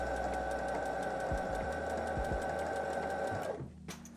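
A budget sewing machine stitches fabric with a fast, steady mechanical whirr, running continuously for several seconds before stopping abruptly near the end.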